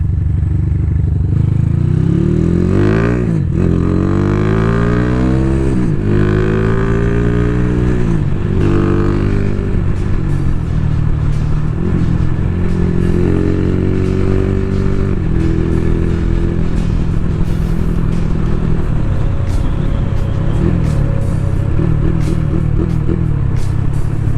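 A race-prepared Honda Tiger motorcycle engine roars loudly while ridden, with repeated rising revs through the gears early on, then a steadier drone with rattling and clattering, all very close and without talk.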